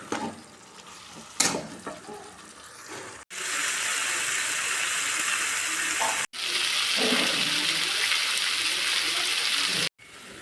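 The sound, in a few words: water poured into a pan of eggplant curry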